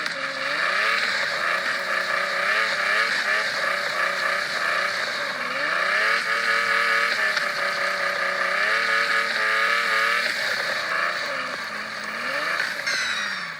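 The car engine in a mobile drift racing game whines steadily and loudly, rising and falling in pitch as it revs, with no pauses across the whole stretch.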